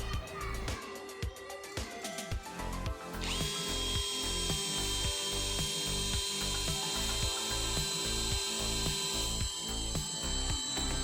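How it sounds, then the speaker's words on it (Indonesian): A cordless brushless drill fitted with a 5 mm Stanley wood bit bores into wood, giving a steady whirring drone with a rhythmic low chatter that grows louder and brighter partway through as the bit bites deeper, close and continuous. "di sini sudah saya ganti menggunakan mata bor kayu dari Stanley ukuran yang sama 5 mm"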